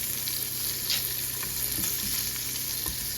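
Pancakes and beef sausages fry in a pan with a steady, dense sizzle, dotted with a few scraping and spatula taps, close and loud with no talking.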